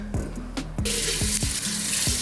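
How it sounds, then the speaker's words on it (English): Tap water runs and splashes into a kitchen sink while a lobster is rinsed under it, with a steady broadband rush and several sharp knocks and clatters from handling the shellfish, close and loud with no talking. "we can take it over to the sink and just rinse all this stuff out"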